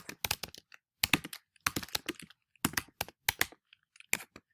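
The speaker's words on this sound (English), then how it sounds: "I'll click Messages and type a message here." Someone types a message on a computer keyboard in short bursts of crisp, close key clicks separated by brief pauses, with no voice heard.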